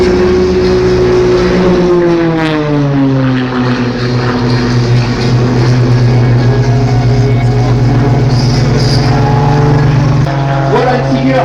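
An aerobatic propeller airplane climbs to hang on its propeller at the Villeneuve-sur-Lot air show, its loud, close engine droning and sliding down in pitch while an announcer talks over it.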